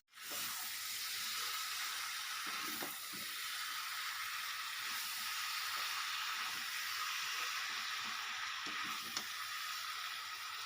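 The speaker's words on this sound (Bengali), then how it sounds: "এবার এই সবজিগুলো আমি পাঁচ মিনিট ধরে ভালো করে কষিয়ে নেব" Vegetables sautéing in a pan for a Bengali fish-oil chorchori, a steady bright sizzle and hiss running throughout with occasional soft stirring knocks, close and even in level.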